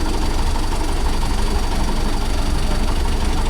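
A Mahindra 415 DI tractor's diesel engine runs steadily at a constant idle, a loud, continuous rumble with a knocking character and no speech over it.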